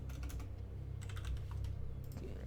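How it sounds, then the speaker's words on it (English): Steady clatter of typing on a computer keyboard, rapid irregular key taps running throughout at close range with a low background hum and no voices. "sitting to the side makes my typing go all wrong"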